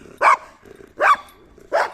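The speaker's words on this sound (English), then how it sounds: "There's this dog behind me." A dog barks three times in Mexico, each bark a loud, sharp burst spaced roughly evenly, with quiet gaps between.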